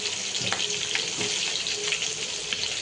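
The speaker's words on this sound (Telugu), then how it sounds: "మనము చేపని తిప్పుకుంటూ అటు ఇటు మార్చుకుంటూ మనం ఫ్రై చేసుకోవాలి" Fish frying in oil over a high flame, a steady broadband sizzle with soft crackles and a few scraping bumps as the pieces are turned, close by with no talk.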